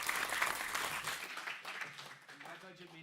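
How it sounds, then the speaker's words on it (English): A round of applause at a county board of supervisors meeting for the Superintendent, a brief, fairly faint patter of clapping from a small room that fades as voices begin speaking over it. "let's give the Superintendent a round of applause for being here today"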